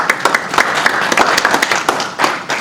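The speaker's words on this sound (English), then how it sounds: "Let's give him a round of applause" A conference audience at a BSides Buffalo security talk gives a round of applause for the speaker, dense overlapping clapping with sharp individual claps popping out, steady and fairly loud across the short stretch.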